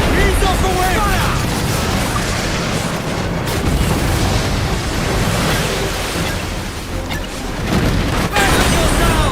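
Ship cannons boom in Assassin's Creed Black Flag amid a loud, dense roar of naval battle, deep blasts over rushing sea-spray noise, with voices shouting orders over the din.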